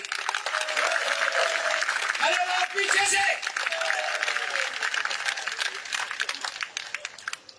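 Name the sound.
crowd applause at a political rally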